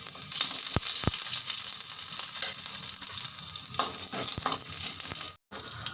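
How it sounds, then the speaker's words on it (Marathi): Ginger pieces and garlic cloves roast in a little oil in a pan, a steady soft sizzle with occasional sharp crackles and taps, close and fairly quiet, with one brief dropout near the end. "लसण आणि आलं यासाठी थोडंसं तेल वापरायचं भाजून घेण्यासाठी"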